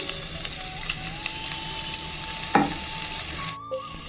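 Green chillies frying in a pan for a green chicken fry, a constant close sizzle with a faint tonal whine and a brief scrape of stirring near the end.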